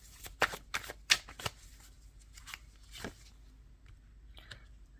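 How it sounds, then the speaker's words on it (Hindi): Tarot cards are shuffled and drawn by hand, giving several quick riffling bursts early on, then softer single slides and flicks at close range in an otherwise quiet room. "एक कार्ड और निकालेंगे"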